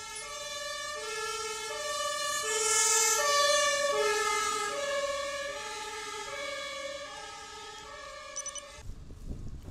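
An emergency vehicle siren wails through Berlin traffic, a loud two-tone pattern repeating steadily for several seconds before cutting off, followed by low road rumble.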